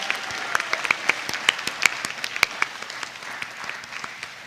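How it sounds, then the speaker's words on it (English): Audience applause for graduating kindergarten and eighth-grade students at a Christian school graduation, steady, dense clapping with sharper individual claps popping out close by, sustained throughout. "So let us give one final round of applause for all of our amazing students."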